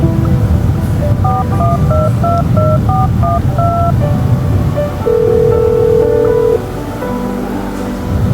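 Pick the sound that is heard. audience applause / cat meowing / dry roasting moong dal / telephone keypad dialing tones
telephone keypad dialing tones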